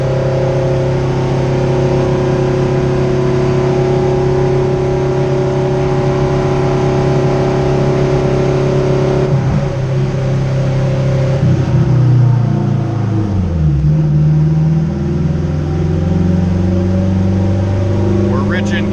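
A turbocharged Acura RSX engine runs on a dyno, holding a steady loud drone before the revs sweep down and settle to a lower hum, with people talking over it.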